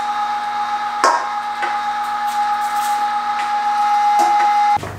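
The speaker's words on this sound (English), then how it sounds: "I'm going to start feeding this through the fine grind plate" An electric meat grinder with a fine grind plate works venison for bratwurst, giving a steady loud motor whine with strong tonal hum, a couple of sharp knocks as meat is fed, and the motor stopping abruptly at the end.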